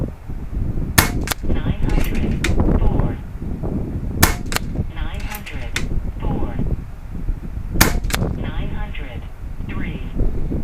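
Umarex Zelos .22 caliber air rifle firing at targets outdoors, sharp cracking shots in small clusters spread across the stretch, with someone talking between them and wind noise underneath.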